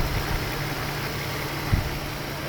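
A Mercedes 600SL engine idles with a constant low rumble, broadband and unchanging, outdoors on a slightly windy day, with a faint thump partway through and no voices.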